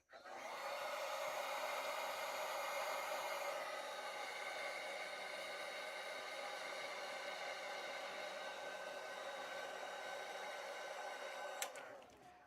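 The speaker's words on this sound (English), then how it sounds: "And then we'll give that a quick blow dry here." A hair dryer blows steadily to dry fresh paint on a Punisher figure, a fairly quiet, even whoosh that runs for about twelve seconds before cutting off abruptly at the end.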